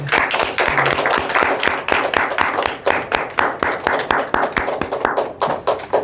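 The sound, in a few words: congregation applause in church service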